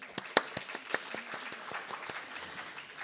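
Sparse, quiet clapping from a small audience at the close of a city development forum in Namyangju, a handful of distinct, separated claps rather than a full ovation, heard close and fairly faint.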